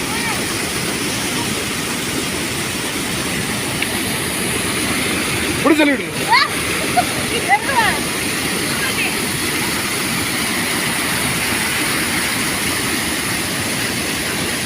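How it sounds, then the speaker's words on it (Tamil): Water pours from Vattakadu lake into a waterfall pool, a loud, constant rushing roar filling the whole stretch, with brief whistle-like sounds or voices rising over it near the middle. "வட்டக்காடு ஏரி அந்த இங்க ஊத்துற தண்ணி இதுல எப்படி வருதுன்னு பாருங்க"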